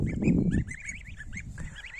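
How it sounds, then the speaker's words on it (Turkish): Goose honking loudly on a farm, a fast run of harsh, nasal calls close by, following a short burst of rough low noise at the start. "Bak benim sesimi duyan kaz çıldırıyor ya."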